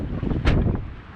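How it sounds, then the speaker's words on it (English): Strong gusting wind buffets the microphone on a mountain trail near Mount Willey in the White Mountains, a close, rough low roar with one sharp gust burst in the middle of a brief moment. "because it's crazy windy."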